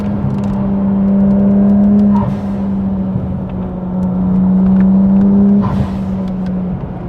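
A Nissan Skyline R34 GT-R engine revs loudly from inside the car while driving, holding a steady droning pitch that rises and falls through surges of acceleration, with brief shift breaks.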